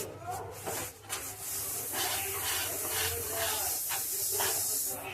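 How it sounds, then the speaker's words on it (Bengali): Sesame seeds tip into a hot pan with the gas switched off, for sesame sweets, producing a continuous close hiss and crackle that stays loud throughout. "এবার আমি গ্যাসটা একদম অফ করে দেবো, দিয়ে তিলটা ঢেলে দেব।"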